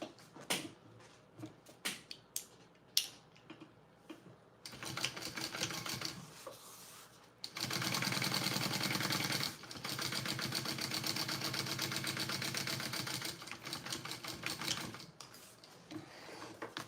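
A sewing machine top stitching along the top edge of a canvas bag runs in steady bursts, with a long continuous stretch of fast mechanical whirring in the middle and short stops and clicks around it.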